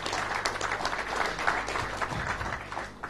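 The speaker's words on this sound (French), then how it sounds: "hamed Abjlil, ministre Transport Logistique, sous vos applaudissements, s'il vous plaît." Steady crowd applause, a dense wash of many hands clapping at once, holding at an even level throughout.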